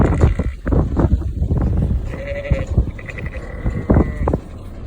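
Sheep ewes bleat repeatedly in a field, several loud, close wavering calls overlapping in an irregular rhythm against outdoor wind, with no one speaking.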